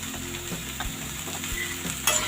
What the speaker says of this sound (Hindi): इसको मिक्स कर लेंगे